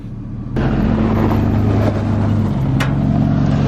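A Ford truck strains to pull a two-wheel-drive Chevy truck with an empty trailer out of deep gravel. A loud, steady engine roar comes in abruptly and holds, with a low droning tone that shifts partway through.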